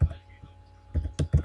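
Computer keyboard keys clack in short clusters of a few close, soft taps, separated by a quiet pause.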